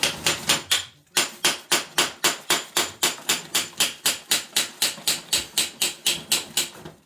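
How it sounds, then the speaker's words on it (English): A hammer strikes repeatedly in a fast, steady rhythm, about four blows a second, sharp metallic hits close up with a brief pause near the start. "So get your hammer and just hit the top."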